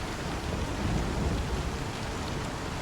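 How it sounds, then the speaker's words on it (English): A dense wash of rain with a low rumbling roll of thunder during a storm in the Star Citizen game world, steady and enveloping with no voices. "You can hear thunder and stuff."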